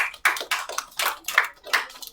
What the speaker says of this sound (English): I want to see everybody clapping.